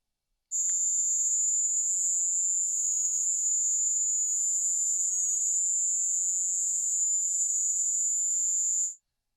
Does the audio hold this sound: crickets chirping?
yes